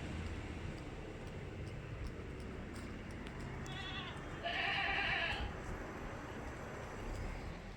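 A crossbreed milk goat on a farm gives a single short bleat near the middle, faint against steady outdoor background noise, with no talk.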